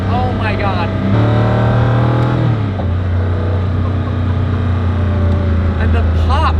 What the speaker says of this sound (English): the pops and just the sounds that the transmission makes between shifts